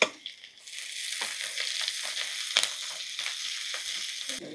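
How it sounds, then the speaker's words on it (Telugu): Mustard seeds and cumin sizzle and crackle in hot coconut oil for a Kerala-style tempering, a steady faint hiss dotted with small sharp pops, with no voices. "సో నేను పోపులో ఫస్ట్ ఒక 1/2 టీ స్పూన్ ఆవాలు, ఒక 1/2 టీ స్పూన్ జీలకర్ర వేసేస్తున్నా"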